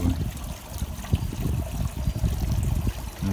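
A small outdoor waterfall trickles and splashes steadily at moderate volume, with a continuous, uneven watery patter throughout.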